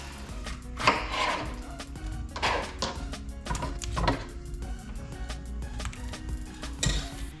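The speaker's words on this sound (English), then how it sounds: "I might as well just grab my cutting board out here and I'm gonna quarter them, but I'm gonna take the ends off" A knife chopping vegetables on a cutting board in a homestead kitchen, with about six distinct, moderately loud cuts spaced irregularly over a steady low background hum.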